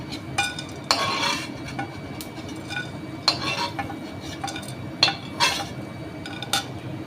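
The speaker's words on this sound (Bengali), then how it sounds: "মশলাটা ভাজা হয়ে গেছে, মশলাটাকে তুলে নিচ্ছি।" Fried spices being scooped out of a pan, with a series of irregular close metallic scrapes and clinks of a spoon against the pan over a faint steady background, no voices.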